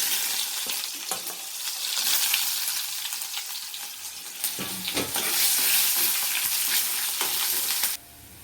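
Mustard seeds, fenugreek, cumin and chana dal fry in hot oil as a tempering, making a loud continuous crackling sizzle with sharp pops and stirring, which cuts off abruptly near the end.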